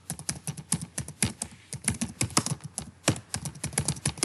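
Rapid typing on a computer keyboard, close and fairly loud, with a steady run of sharp key clicks and small pauses, as in entering text into a product listing form.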